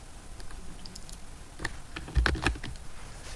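Computer keyboard keys are pressed in a quick irregular burst of clicks, close and fairly quiet, with a cluster of sharper taps near the end.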